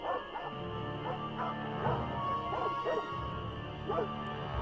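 In the Nancy Drew game Ghost Dogs of Moon Lake, a dog yips, barks and whimpers in repeated short bursts over a humming background, fairly close and clear.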